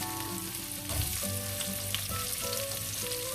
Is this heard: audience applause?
no